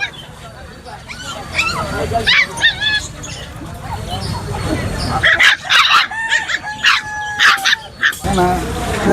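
A puppy barks and yips repeatedly at a weekly outdoor pet market selling dogs, cats, rabbits and birds, loud and close, with busy crowd chatter and a vendor talking throughout.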